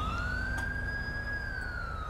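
A police car siren in GTA 5 with the LSPDFR mod, stuck on, wails in a steady, slowly rising and falling tone that carries on alone under a low rumble.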